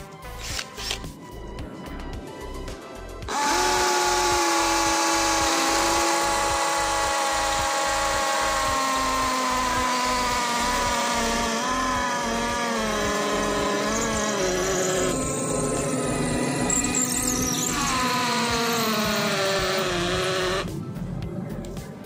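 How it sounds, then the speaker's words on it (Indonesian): A hammer drill fitted with an 8 mm masonry bit bores into a concrete wall in hammer impact mode at speed setting 2, giving a loud, continuous whine with a rapid pounding pulse that starts abruptly and stops near the end. "Di sini saya menggunakan percepatan nomor 2, modenya adalah mode Hammer Impact, medianya adalah tembok beton."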